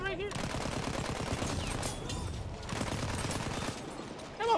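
Battlefield 1 multiplayer battle with mortar fire: dense, continuous rumbling blasts and gunfire crackle fill the whole stretch, loud and busy, with a sharp burst near the end.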